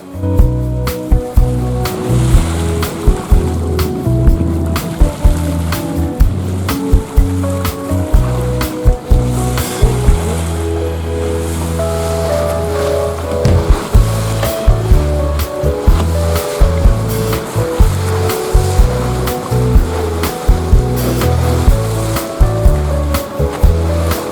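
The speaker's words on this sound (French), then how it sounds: "la mer est de glace et nous glissons au moteur vers notre destination" Steady hum of a boat engine motoring over a glassy calm sea, water washing along the hull, continuous and fairly loud, with faint tonal drone throughout.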